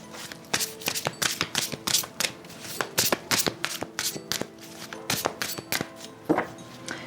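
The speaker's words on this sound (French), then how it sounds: "On va prendre 2 petites cartes pour le sentimental." Tarot cards are shuffled by hand in quick, crisp bursts of riffling and slapping, repeated clusters of sharp card snaps close up with short pauses between them, and no talking.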